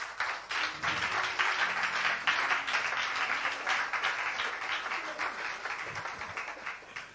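A church congregation applauding to acclaim the Lord, a dense sustained wash of clapping throughout that fades slightly toward the end.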